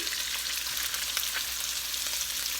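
Garlic, ginger and onion sizzle in a frying pan for a shrimp and broccoli stir-fry, making a loud, dense, continuous hiss with faint crackles close by.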